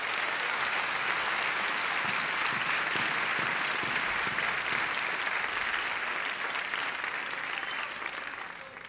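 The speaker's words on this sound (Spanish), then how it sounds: "Si ese aplauso es para Cristo, dáselo más fuerte" Church congregation applauding loudly and steadily for Christ, a dense sustained wash of clapping that carries on for several seconds before easing slightly at the end.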